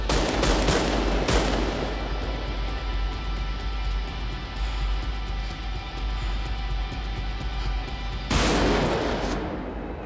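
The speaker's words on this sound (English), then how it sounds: "Al Pacino has to try and shoot Sizemore without hitting the kid." Gunfire from the street shootout in the film Heat: a loud, continuous barrage of automatic fire with sharp echoing reports, heaviest at the start and end, with no talk.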